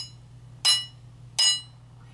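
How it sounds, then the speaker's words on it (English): A hammer strikes a metal bar twice, about three-quarters of a second apart, each a sharp, bright tink with a ringing, shimmering tail over a low steady hum. "I'm going to hit the bar in such a way where I'm holding the hammer with my fingers"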